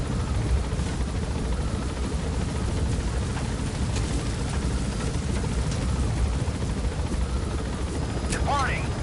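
Helicopter in Metal Gear Solid V taking off and climbing, a steady broadband rotor and engine roar held at constant loudness throughout, with faint gunfire-like clatter and a brief rising whine near the end.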